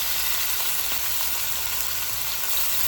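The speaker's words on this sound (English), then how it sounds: "We want that vegetable oil to get nice and hot. Okay, so we'll go ahead and add our steak." Steak dropped into hot vegetable oil, a steady, fairly faint hiss of frying that spreads evenly and continues without a break, no talking.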